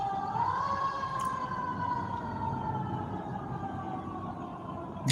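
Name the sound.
emergency vehicle sirens outside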